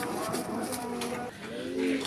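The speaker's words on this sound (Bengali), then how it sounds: "আমরা এখানে আরেক জোড়া কবুতর দেখতে পাচ্ছি" Several Raj Golla pigeons coo in low, throaty rolls, the calls overlapping and sustained close by amid a busy, noisy background.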